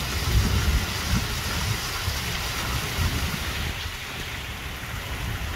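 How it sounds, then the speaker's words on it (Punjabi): Heavy rain pours outdoors in a steady, dense wash of noise, loud and continuous, with some wind buffeting the microphone. "ਬਹੁਤ ਤੇਜ਼ ਬਾਰਿਸ਼ ਸ਼ੁਰੂ ਹੋਈ ਹੈ"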